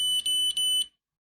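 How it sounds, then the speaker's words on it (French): An iCare HOME2 tonometer gives three long, high electronic error beeps in quick succession, clear and close, then falls silent. "La lumière dans la base de la sonde clignote en rouge et l'appareil émet 3 longs bips"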